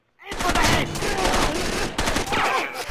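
Sustained automatic gunfire in the video game Rainbow Six Vegas 2 rattles loudly and almost without pause for nearly three seconds, with a brief dip near the end before the shooting resumes.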